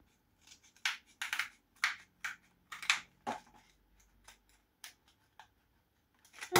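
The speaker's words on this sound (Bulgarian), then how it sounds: "Взела съм си една ножича." Small scissors snipping open the plastic wrapper of a Kinder Joy chocolate egg, a close series of sharp, crisp cuts in quick bursts with short pauses, no talking.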